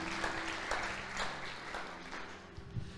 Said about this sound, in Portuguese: Dá um aplauso ao Senhor por isso.